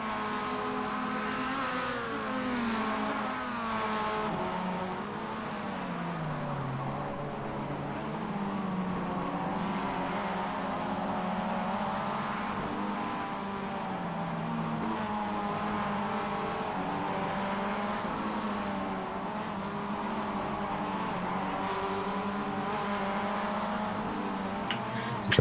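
Engine drone from a pack of race cars in the iRacing ChampCar Series at Adelaide, a sustained layered roar whose pitches rise and fall as the cars accelerate and lift, steady and loud throughout with no talking.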